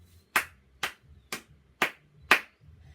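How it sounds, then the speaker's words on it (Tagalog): A group of people claps in unison five times on cue, each sharp clap evenly spaced about half a second apart with near silence between them. "bibigyan muna natin ng 5 palakpak ang ikalawang grupo"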